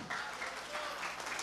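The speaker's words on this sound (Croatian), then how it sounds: "Sad ćemo da saberemo jedan aplauz" An audience at an outdoor Šumadija village games contest in Kutlovo applauds, a steady wash of many hands clapping, moderately distant and continuous throughout.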